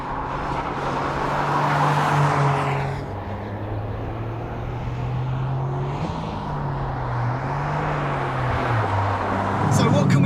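A 2022 Toyota GR Corolla driven hard on a race track: a steady engine drone rises and falls through gear changes with tire and wind noise, loud and close throughout.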